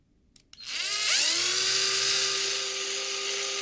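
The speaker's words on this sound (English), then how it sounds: "attempt to drill this out." A power drill drills out a stuck part during a car wheel swap, starting with a few clicks, then spinning up into a steady high-pitched whine that holds at constant speed.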